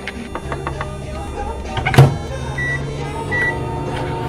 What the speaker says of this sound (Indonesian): Aku masukin ke microwave lagi deh.